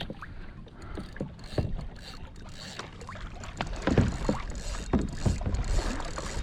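Two kayaks on open water being towed and swung around by a large hooked fish, with water lapping and sloshing against the hulls, paddle knocks and steady wind noise close to the microphone.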